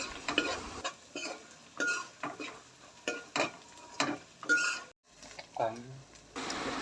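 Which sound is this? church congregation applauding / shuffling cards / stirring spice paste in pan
stirring spice paste in pan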